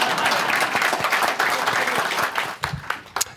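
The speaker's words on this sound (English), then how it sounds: "You can applaud for him, Mike." Audience applause at a Jobs Ohio TECO business event, a steady wash of many hands clapping filling the room for a few seconds before thinning out into scattered claps.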